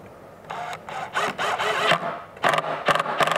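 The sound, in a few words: screw driven into OSB pieces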